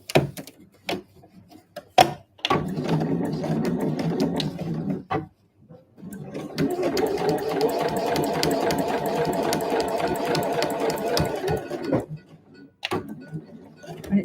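A sewing machine stitches the side seam of a handmade convenience-store-size eco bag, running in two long steady bursts separated by short pauses, close and clear with no talk.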